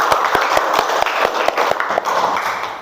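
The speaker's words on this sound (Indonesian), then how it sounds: "tepuk tangan ya" Schoolchildren in a classroom clapping together, loud and close, with rhythmic claps standing out sharply over a steady wash of applause that continues throughout.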